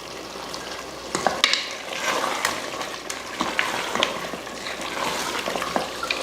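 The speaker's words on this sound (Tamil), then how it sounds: "சிக்கன் பார்த்திங்கன்னா நல்லா வதங்கி எண்ணெய் பிரிஞ்சு வந்திருக்கு" Chicken masala sizzles and fries in oil for biryani, with steady crackling and sputtering and intermittent scraping as it is stirred, close and fairly loud with no talking.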